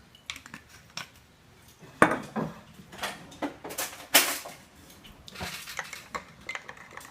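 Dishes and cutlery clatter and clink in bursts as a beef jerky marinade of VH sauce, garlic and ginger is stirred, with scattered sharp knocks over several seconds and no talking.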